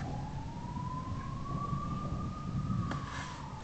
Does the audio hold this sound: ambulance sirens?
yes